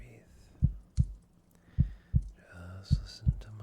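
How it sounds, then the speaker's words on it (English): Soft, close heartbeat thumps in an ASMR setting, a few irregular paired beats with a quiet voice murmuring around them. "Just listen to my heartbeat."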